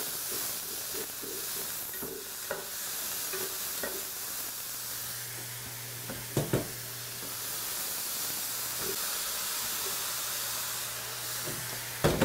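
Mushrooms fry in oil in a pan with a steady, even sizzle. Occasional clicks and scrapes of stirring break through the sizzle, and a low hum sits underneath.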